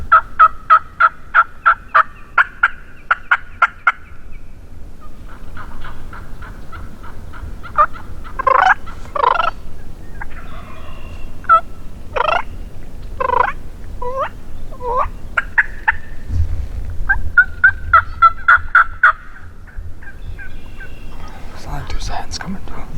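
Wild turkeys gobble and call during a public-land spring hunt in Michigan's Upper Peninsula, with hens arriving along with the gobblers. Repeated loud gobbles and rapid yelping calls ring out at varying distances across the woods, with hushed whispering from hunters in between.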